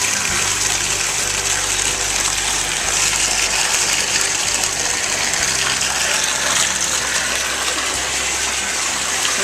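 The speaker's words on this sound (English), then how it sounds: "To get more bubbles, you can agitate the water like this," Bath water agitated by hand to whip up bubbles, a continuous loud splashing and sloshing that churns for several seconds without pause, alone with no speech.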